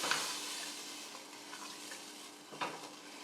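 A spoon stirs vegetables submerged in liquid in a pan of beef stew, giving a faint, steady wet swishing with a couple of soft clinks against the pan.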